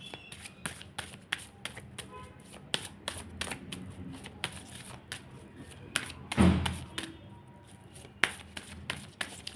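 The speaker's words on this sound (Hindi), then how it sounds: "जब तक मैं शफलिंग कर रही हूँ" Tarot cards being shuffled by hand, a run of quick crisp riffling taps and snaps with occasional soft thuds, close and fairly quiet with no talking.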